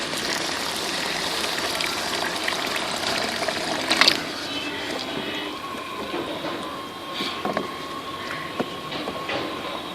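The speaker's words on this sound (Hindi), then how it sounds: "अब हम इसमें थोड़ा सा पानी शामिल करेंगे।" Water poured into roasted chickpeas and masala in a hot pan, village-style cooking: a steady hissing sizzle with a sharper splash burst partway through, heard alone without talk.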